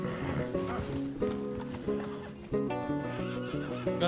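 In a Wild West roleplay video game, horses neigh and whinny loudly amid clip-clopping hooves, a dense, continuous mix of animal sounds with repeated louder whinnies.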